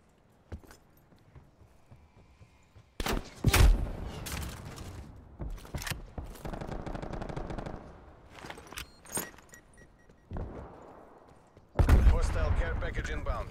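A hostile sentry turret firing in a military shooter video game: loud bursts of rapid gunfire, one long sustained stretch and a sharp burst near the end, with game voices over the fire.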